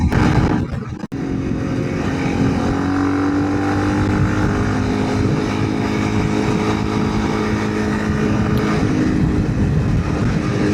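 Honda CRF300L Rally big-bore motorcycle cruising at about 72 over small rolling hills, with a steady, loud engine drone and heavy wind rush throughout, the tone holding nearly constant at speed.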